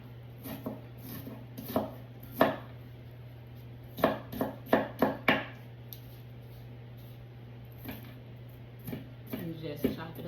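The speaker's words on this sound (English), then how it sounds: "You just chop it up." A knife chopping red onion on a board for a summer salad, a handful of sharp close taps in uneven bursts over a steady low hum, with some quieter knocks between.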